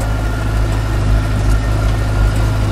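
A Lamborghini R4.110 tractor engine idles close by with a steady, loud, low throbbing rumble that holds unchanged throughout.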